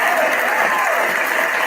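A crowd applauds a guest artist with steady, dense clapping, loud and even with no break, as a thick wash of hands.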